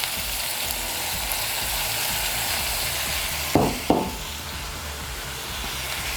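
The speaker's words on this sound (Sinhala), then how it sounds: "මේ විදිහට බැදුනහම කරපිංච ටික එකතු කර ගන්නවා" Dry fish and curry leaves fry in hot oil with a steady close sizzle throughout, broken by two brief louder spits of crackling as the leaves hit the oil.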